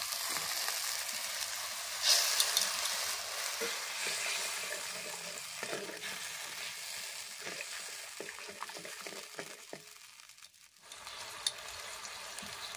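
Mango and mustard paste going into a hot frying pan of pabda fish curry, then stirred: steady sizzling and frying hiss with scraping stir strokes, briefly quieting near the end before the sizzle returns.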